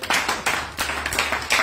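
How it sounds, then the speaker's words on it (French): A church congregation claps hands together in fast, rhythmic unison, loud and close, with no voices over it. "Gloire à Jésus, acclame Jésus"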